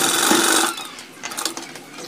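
A sewing machine stitches around a kurta collar in a short, loud burst that stops abruptly, followed by quieter intermittent rattles and handling sounds.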